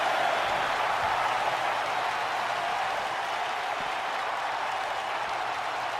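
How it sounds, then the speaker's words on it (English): A wrestling crowd cheers in a steady, dense roar, loud and continuous throughout, with no single voice standing out. "They're cheering Mercedes on."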